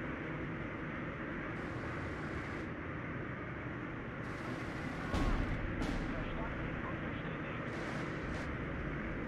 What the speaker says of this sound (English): Bomber formation incoming.